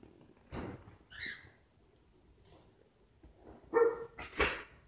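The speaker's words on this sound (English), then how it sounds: "here's my dog" A dog gives a few short barks and yelps indoors during a live stream, separated by quiet gaps, with a louder cluster of barks near the end.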